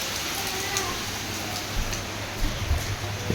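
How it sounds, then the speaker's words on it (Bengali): Rain falls steadily in a continuous soft hiss with scattered drips and patters, heard close around a home. "বৃষ্টি হচ্ছে।"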